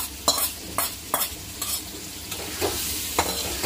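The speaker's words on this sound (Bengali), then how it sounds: "এখন আমি মশলার মধ্যে মাছগুলো একটু কষাই নিব" Prawn pieces being stirred and fried in spice paste in a pan make a close, steady sizzle, broken by repeated scraping strokes of the spatula in an uneven rhythm.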